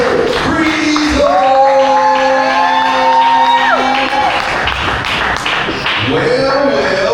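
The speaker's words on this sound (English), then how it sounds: "Please start clapping right now" A comedy roast audience whoops, shouts and cheers with some clapping as a performer takes the stage, a lively close crowd with voices rising and falling throughout.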